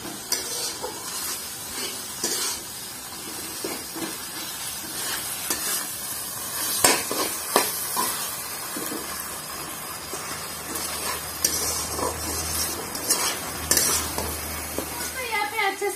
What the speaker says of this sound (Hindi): तो मसाला को इतनी अच्छी तरह से भूनना पड़ेगा जब तक इसका तेल ना छोड़ दे।